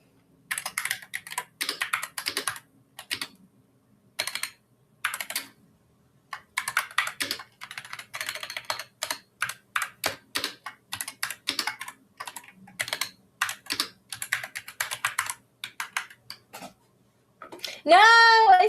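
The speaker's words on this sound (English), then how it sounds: "Nobody make fun of how loud the keyboard is." Loud clacking computer keyboard typing in quick irregular bursts with brief pauses, close and dry, ending with a short high sound.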